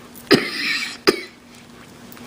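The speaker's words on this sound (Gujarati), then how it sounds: "મને હજી મારી ઉધરસ નથી ગઈ" Two sharp coughs about a second apart, close and loud, with quiet room tone between them and no talking.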